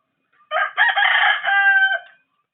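A single loud rooster crow rings out close by, a drawn-out call with a stuttering start and a long sustained finish, with silence around it.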